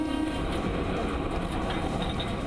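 A rapid rail train runs between Sahibabad and Duhai depot, giving a steady, loud rumble and hum from inside the carriage, with faint rhythmic rolling and no talking.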